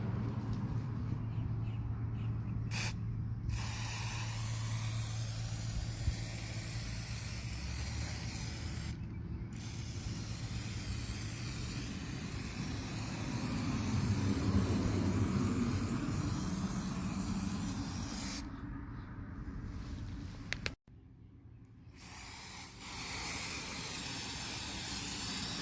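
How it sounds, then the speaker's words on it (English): Adhesive sprays from an aerosol can onto a Toyota Corolla valve cover gasket in long steady hissing bursts with short pauses between them, close and clear, with faint mechanical clicks in the background. "Adhesive spray, we're going to spray it on the outside edges, and we're also going to do that to the gasket as well."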